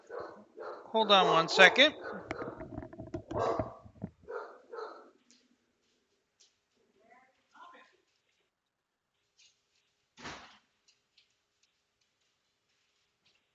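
Dogs barking indoors during a recording: a loud burst of yaps and barks early on, tapering into a few faint, scattered barks, with someone briefly speaking.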